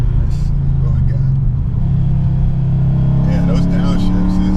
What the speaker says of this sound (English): those downshifts is not liking it.